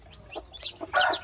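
Day-old chicks peep in high, quick chirps over about a second, several overlapping calls close by, one cluster denser and louder near the end.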